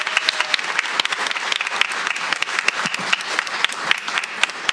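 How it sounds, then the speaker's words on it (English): Audience applause at a board session, a steady dense patter of many hands clapping with sharp individual claps standing out, continuous and fairly close throughout. "One more round of applause for Elisa."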